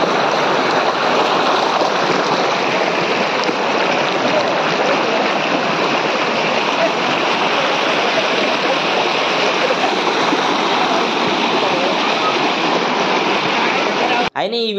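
Penchalakona waterfall in Nellore pours with a heavy flow, giving a loud, unbroken roar of rushing water that fills the scene from start to end with no pause.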